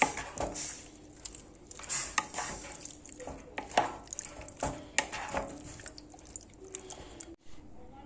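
Sauce ingredients being stirred together in a bowl: irregular clinks and scrapes of a utensil against the dish, with small wet squelches between strokes, close but fairly soft.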